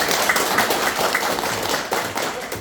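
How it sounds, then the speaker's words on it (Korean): Audience in a university lecture room clapping to welcome a professor before a special lecture on equestrian leisure sports, dense steady applause throughout, moderately close. "큰 박수로 한번 환영해 주시죠"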